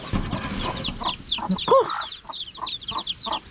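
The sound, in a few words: chicks clucking while eating their feed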